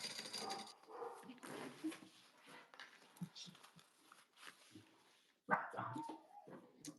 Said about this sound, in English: Sorry for the barking dogs.